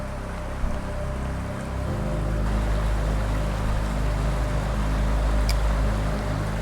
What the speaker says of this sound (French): On arrive tout doucement sur un super poste avec 2 cascades.